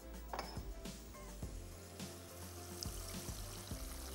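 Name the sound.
water being poured into a pan with sugar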